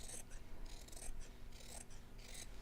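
Scissors snip through fabric being cut out for a sewing project, a series of soft, close crisp cuts in an uneven rhythm, fairly quiet with no talking over them.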